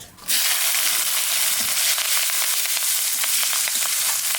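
Green chillies dropped into hot oil with cumin, radhuni and garlic burst into a loud, close sizzle with faint crackles and spits scattered through the steady hiss, no voices present.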